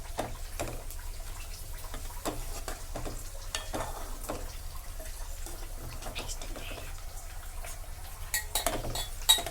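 Onions stir and fry in a pan until golden brown, a quiet steady sizzle broken by repeated scraping and clinking of a spoon against the pan, with no voices.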